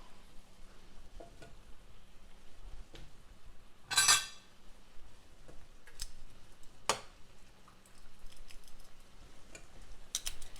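Carrots get stirred through a thickening sauce in a pan for vegan carrot dogs: a quiet, steady low sizzle runs under sparse utensil taps and scrapes, with a sharper clatter near the middle and another a few seconds later.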